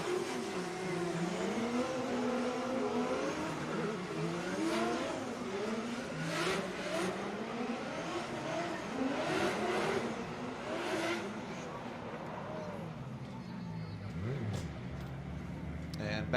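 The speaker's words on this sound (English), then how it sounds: "Let's lay out and listen to these two hot rods." Two Formula Drift cars on a side-by-side sight lap at a professional round, their engines revving and rising and falling in pitch as they pass, with an announcer talking over the engine noise throughout.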